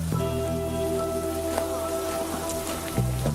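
Steady rain pattering on surfaces outside a rundown nightclub in a video game, a constant patter with a few sharper drops, under a faint droning hum, with no voices.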